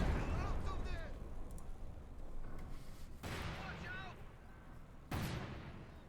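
Mines explode in a Company of Heroes 2 match between German and Soviet forces: two sharp booming blasts a couple of seconds apart, rising over a rumbling battle din while a commentator talks.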